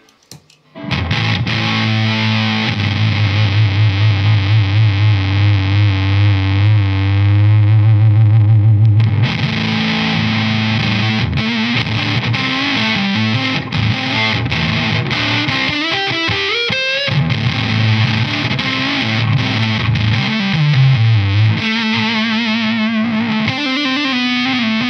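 An electric guitar runs through a Dunlop Jimi Hendrix '68 Shrine Series fuzz pedal in silicon mode, producing a loud, gnarly, heavily saturated tone with sustained low chords, riffs and sliding bends, no voices present.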